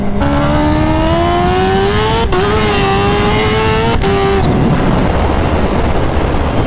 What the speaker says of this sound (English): It's just blow off valve noises all over the place.